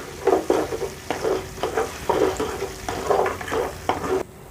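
Ginger fries in oil for a chicken pickle, stirred in a pan with rhythmic scraping strokes over a continuous close sizzle, about ten regular stirring pulses before the sound cuts off.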